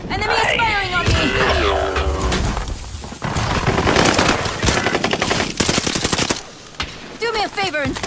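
Enemy gunfire in a video game: rapid machine-gun bursts crackling loudly in stretches, mixed with a voice talking over the shots.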